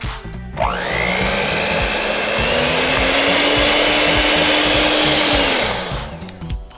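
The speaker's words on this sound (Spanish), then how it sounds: "lo pueden hacer con una batidora como yo" An electric hand mixer whirs up to speed while whipping a potato filling for baked stuffed potatoes, holding a loud, steady whine for about five seconds before spinning down.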